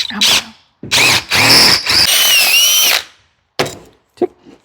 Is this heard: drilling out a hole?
yes